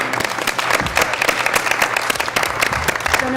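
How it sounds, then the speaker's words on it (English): People at a school board meeting give a brief, lively round of applause for graduating seniors, close and fairly loud, with a few scattered voices. "Round of applause for our seniors."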